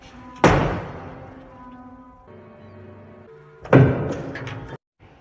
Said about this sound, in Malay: Lalu pintu pun kembali ditutup.